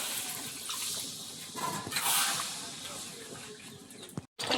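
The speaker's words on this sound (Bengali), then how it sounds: "এবার জল দিয়ে দেবো।" Water poured into a pan of spices while cooking a Bengali fish-head and eggplant dish, a steady hissing splash that runs for several seconds, louder near the middle, then cuts off briefly near the end.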